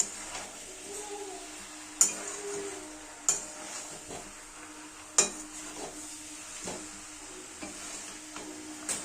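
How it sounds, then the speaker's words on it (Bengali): Chicken curry with chui jhal and potatoes stirred in a pan, soft sizzling under sharp periodic scrapes and clinks of a spoon against the pan. "অনবরত এটা নাড়াচাড়া করতে থাকবেন এবং ধীরে ধীরে এটা কষতে থাকবেন"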